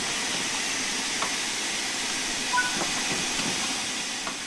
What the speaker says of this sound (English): Open the cylinder cocks to remove any water from the cylinders after the locomotive has been left standing.